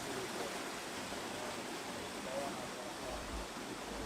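Continuous soft rush of water at the Bath Fountain hot spring in St. Thomas, Jamaica, a faint, even hiss of flowing water with no clear breaks.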